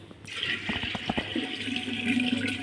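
Water pours from above into a pot of churned cream while desi ghee is being made at home. A gurgling, splashing stream rises into a steady filling rush.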